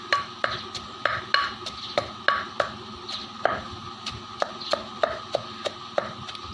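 Shallots pounded into chili paste with a mortar and pestle for a Surin-style coconut chili dip, a steady series of sharp, close knocks at an even thudding rhythm, with no talking.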